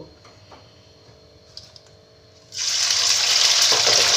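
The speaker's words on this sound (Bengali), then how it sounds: "এবার শুটকি মাছগুলোকে আমি ভেজে নেব" Dried fish dropped into hot mustard oil in a wok sets off a sudden loud, steady sizzle partway through, after a quieter stretch of faint ticking and kitchen noise.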